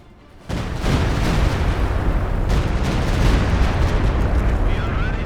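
An artillery barrage in the real-time strategy game Company of Heroes 2 pounds away as a loud, dense, continuous roar of overlapping explosions and booms that starts abruptly and keeps going.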